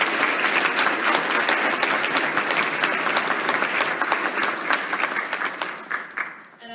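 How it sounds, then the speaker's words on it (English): A large audience applauds student presenters at an MIT demo day event, with dense, sustained clapping that tapers off near the end. "Let's just give all these students another round of applause."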